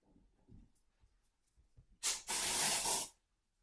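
A can of dry shampoo is sprayed onto hair. Faint rustling comes first, then a single close, hissing aerosol burst lasts about a second.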